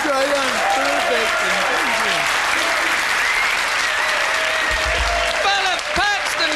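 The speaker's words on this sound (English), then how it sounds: "give a big round of applause, Mr. Philip Patston" Audience applause for comedian Philip Patston fills the room, a dense, steady wash of clapping with some cheering, while a voice speaks over it from the stage.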